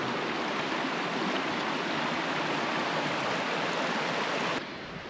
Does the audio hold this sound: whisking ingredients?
no